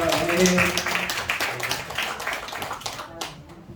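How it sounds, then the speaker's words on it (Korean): A church congregation at a Sunday Thanksgiving worship service claps together in steady, dense applause that fades toward the end, with voices murmuring underneath. "저기 다 같이 큰 박수로 하나님께 영광 드리겠습니다."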